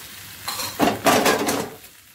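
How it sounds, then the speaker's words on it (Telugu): Tomatoes added to hot oil with curry leaves for paya pulusu, a brief burst of sizzling and metal spoon scraping against the pan, rising and fading over a couple of seconds. "ఇది కూడా బాగా ఫ్రై చేసుకుందాము. ఆయిల్లోనే ఫ్రై చేసుకుందాము."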